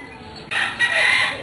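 A rooster crows loudly and close by in one short burst that rises sharply and holds a strained, high call to the end, with no talk over it.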